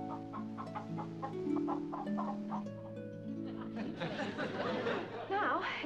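A hen clucks in a fairy-tale sitcom scene, its short bursts set against sustained musical tones, with chuckling voices and busier noise toward the end.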